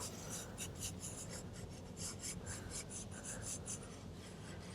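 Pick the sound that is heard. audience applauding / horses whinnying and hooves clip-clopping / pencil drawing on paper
pencil drawing on paper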